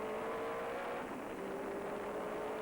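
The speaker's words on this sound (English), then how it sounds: "Great throaty sound of these TVRs as they cross the line" TVR Tuscan race car engines roar steadily with a deep, throaty drone, loud and continuous as the cars pass at speed and cross the line.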